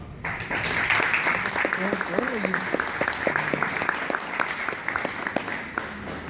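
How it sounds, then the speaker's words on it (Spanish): An audience at a conference welcomes a speaker with sustained, fairly distant applause that holds steady throughout, while a voice speaks over the clapping. "al cual le damos la bienvenida con un muy fuerte aplauso"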